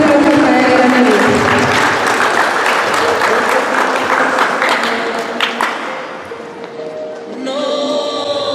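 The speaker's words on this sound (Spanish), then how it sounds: "Pedimos un fuerte aplauso para el gran amigo." Loud applause from an audience at a preschool closing ceremony, a thick wash of clapping that gradually fades, with crowd voices and a few scattered claps near the end.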